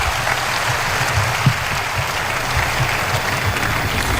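An audience applauds the president at a formal public-service event, a dense, sustained clapping that holds steady throughout without speech.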